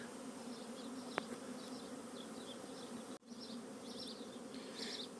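Honey bees flying around hives at an apiary produce a faint, continuous buzzing drone outdoors, with louder passes as individual bees fly near.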